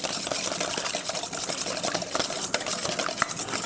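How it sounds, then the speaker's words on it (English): An egg being whisked in a bowl for a custard pumpkin pudding gives a quick, steady clatter of metal tines against the bowl, close and continuous for a few seconds. "I'm going to whisk that."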